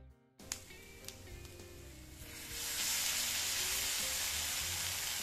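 Dry fish pickle with spices sizzling in a pan, a steady close frying hiss that swells louder partway through and holds, with a few faint clinks early on.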